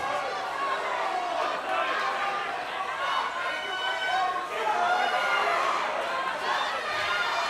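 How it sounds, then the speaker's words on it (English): A large wrestling crowd roars in sustained disapproval of the referee's call, a dense hubbub of voices that swells and holds, with a commentator speaking over it. "Crowd viciously disagreeing with the referee's call there"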